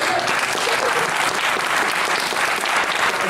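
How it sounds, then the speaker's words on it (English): A room full of people claps steadily for a guest lecturer on silent film at a pre-concert talk, a sustained, even round of applause. "Give a round of applause."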